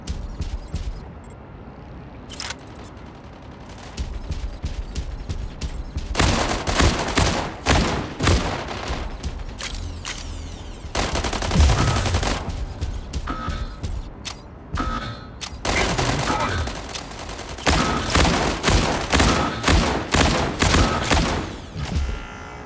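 The Barrage Nade Launcher in the mech combat game Mech Arena fires in repeated loud volleys of rapid explosive thumps and bangs, clustered bursts separated by brief quieter gaps.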